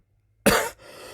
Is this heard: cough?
yes